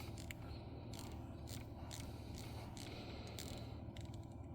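A USB volume knob is turned with a faint, continuous gritty ratcheting, small soft clicks scattered through it, quiet and close over a steady low hum.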